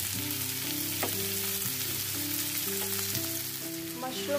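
Prawns, beans and mushrooms fry in a pan over low heat, producing a steady, close hiss with light crackle and a few faint clinks, with no talking.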